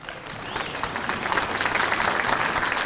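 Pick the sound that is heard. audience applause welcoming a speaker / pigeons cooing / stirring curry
audience applause welcoming a speaker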